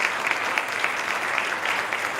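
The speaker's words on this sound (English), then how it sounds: "let's just give this panel a round of applause" A conference audience applauds a discussion panel with steady, dense clapping from a moderately sized crowd, held at an even level throughout without voices.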